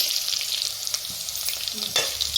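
Carrot and beetroot sizzle and crackle in a hot pan, a close, continuous frying hiss with light stirring scrapes.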